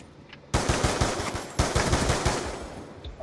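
Rapid automatic FAL rifle fire in the video game Black Ops 2, two bursts of quick sharp shots in steady rhythm, close and loud, with no talking.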